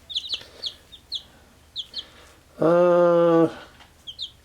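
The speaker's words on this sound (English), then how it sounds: "That one's a hen." A chicken gives a series of short clucks and chirps near the mic, broken by one loud, drawn-out squawk lasting about a second.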